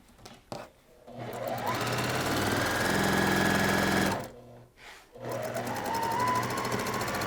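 A sewing machine stitches quilt pieces for log cabin and half-square-triangle blocks, running in steady bursts of whirring that stop briefly midway and then resume, close and fairly loud with no talk over it.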